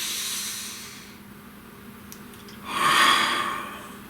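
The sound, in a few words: person taking a deep breath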